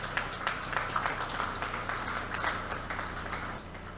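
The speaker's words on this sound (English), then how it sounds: "Let's give them a round of applause." An audience at an event praising the GFA for clean books breaks into applause, a modest, distant patter of clapping with a few sharper individual claps standing out, fading slightly toward the end.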